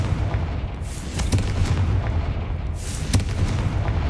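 Explosive spell blasts from the Confringo fire curse in Hogwarts Legacy, two loud booming bursts roughly two seconds apart over a rumbling low background, with no talking.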